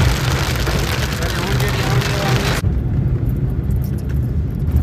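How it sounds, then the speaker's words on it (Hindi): Heavy rain pours down while a car drives along. A loud, dense hiss of rain drums over the car, and the tone shifts abruptly midway to a darker, lower rumble. "सामने तेज बारिश आ गई तेज बारिश भी शुरू थी गई"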